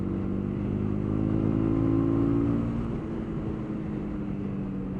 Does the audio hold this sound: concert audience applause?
no